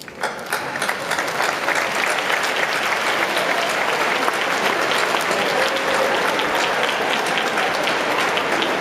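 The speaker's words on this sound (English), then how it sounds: "please rise and join me in giving your supporters, your fan club, a round of applause" A graduation ceremony crowd gives sustained applause for the graduates' supporters, with loud, dense, even clapping that swells quickly and carries on throughout.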